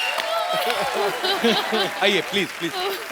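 Studio audience applause on The Kapil Sharma Show, a steady wash of clapping running beneath someone talking loudly over it.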